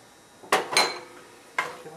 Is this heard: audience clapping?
no